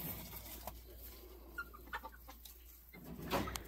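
Backyard chickens cluck softly in short, scattered bursts at a moderate distance over a quiet low background hum, with no speech.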